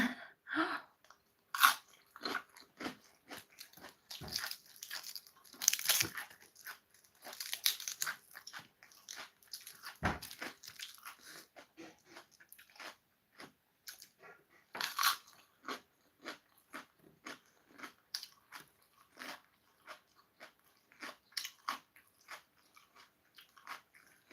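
Close, steady run of crunchy bites and chewing of food, irregular crackly mouth noises repeating throughout with no talk.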